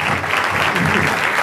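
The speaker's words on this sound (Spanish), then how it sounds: "Fuerte el aplauso para esta terrible actriz." A theater audience gives an actress a short, loud burst of dense clapping after a one-person play, with crowd noise mixed in.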